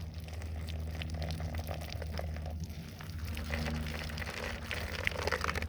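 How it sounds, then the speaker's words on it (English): Chicken feed poured from a plastic milk jug into a cavity at the end of a backyard chicken run: a steady, continuous rushing patter of grain lasting several seconds, moderately close, with no talking. "At the end of the chicken run, there's a little cavity where I just pour it in"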